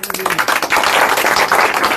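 A group of residents clap together in a sustained burst of applause outdoors, close and fairly loud, applauding a municipal corporation's housing initiative.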